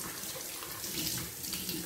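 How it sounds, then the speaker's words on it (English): Water runs steadily from a tap into a sink while hands are rinsed, making a continuous close splashing hiss. "So I'm just going to leave that water running."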